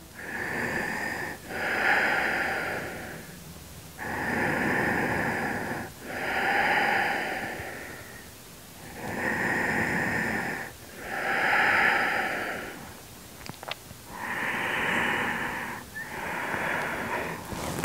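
Slow, deep breaths during a yoga stretch, with long, even inhales and exhales repeating about eight times in a steady rhythm, close and fairly quiet with no talking.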